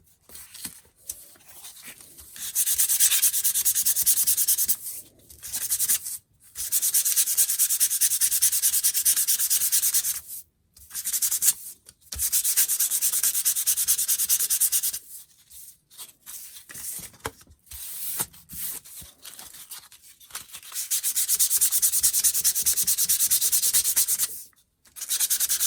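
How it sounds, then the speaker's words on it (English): Sandpaper rubs briskly across a glossy flash card to roughen its sheen, in long scratchy passes broken by short pauses, close and fairly loud. "I'm just roughing up the texture of this card because of that sheen"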